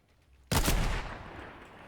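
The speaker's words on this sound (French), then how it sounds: "Ouais, c'est sur moi, ils ont tiré." A sudden loud burst of video game gunfire after a short quiet stretch, then a long echoing tail that fades slowly.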